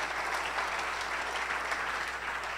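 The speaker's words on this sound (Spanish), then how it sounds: "¿Le puedes dar un aplauso a Jesús por lo que está haciendo?" A church congregation claps steadily together, a dense, even wash of applause filling a large room for a few seconds with no voices standing out.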